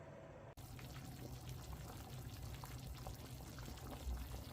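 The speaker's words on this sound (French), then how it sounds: "Que je vais rajouter de l'eau chaude par-dessus." Hot water poured over dried chili peppers in a small bowl, a steady close pouring and splashing that starts suddenly and runs evenly for about four seconds, on its own without talk.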